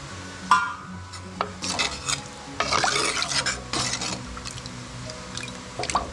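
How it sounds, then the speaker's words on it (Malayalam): Water goes into a simmering Kerala pulinkari, and a spoon then stirs it, scraping and clinking against the pot over soft bubbling. The sounds come close, in uneven bursts. "കുറച്ചുകൂടി വെള്ളം ചേർത്ത് കൊടുക്കാം."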